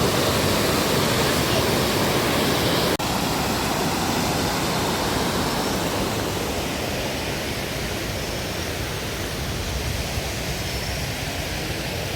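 A river running full in the rainy season gives a loud, constant rushing roar close by, with no voices over it.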